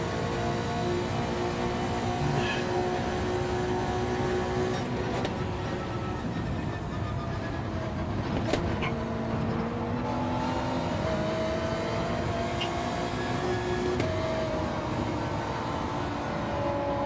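Race car engines from a racing video game, one of them a GTR, drone steadily and loudly throughout with shifting tonal lines as revs rise and fall, a continuous layered roar with no talk.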